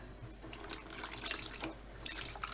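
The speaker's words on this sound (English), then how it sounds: "just squeeze that into a bucket" Water is wrung from a sponge into a bucket while cleaning out a Bosch dishwasher, giving a soft, close splashing trickle that runs for a couple of seconds.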